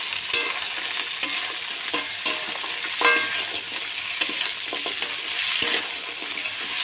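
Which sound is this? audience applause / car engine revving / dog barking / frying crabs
frying crabs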